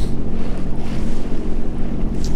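A strong gust of wind roars across the microphone while a Sea-Doo runs over open water, loud and continuous with engine drone and water rush beneath, no voices.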